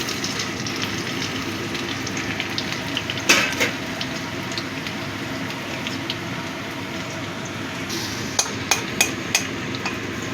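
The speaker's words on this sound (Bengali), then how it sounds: "রসুনটা একটু ভেজে নিচ্ছি।" Chopped garlic frying in oil, a steady broad sizzle that lasts throughout, with occasional sharp taps of a utensil on the pan, clustered near the end.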